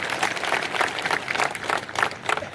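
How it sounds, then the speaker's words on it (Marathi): Members at a sugar factory farmers' meeting applaud together, a sustained crowd of hands clapping loudly and continuously with slight swells in intensity. "सगळ्या सभासदांच्या वतीनं एकदा जोरात टाळ्या वाजवून त्यांचं या ठिकाणी"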